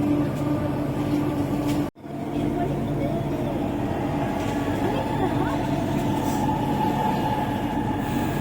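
A metro train rumbles at a metro station, with a steady low drone, a brief cut partway through, and ongoing hum and clatter in the surrounding station space.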